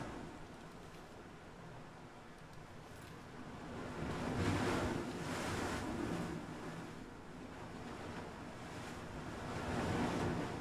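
Loud water waves surging and washing in steady swells on a shoreline in the video game PUBG, with a constant roar that builds and recedes around the middle and end, with no speech.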